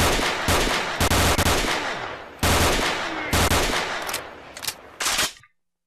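Bursts of automatic gunfire in S.T.A.L.K.E.R.: Shadow of Chernobyl, loud sustained rattling volleys broken by short gaps, then a few final sharp shots before sudden silence.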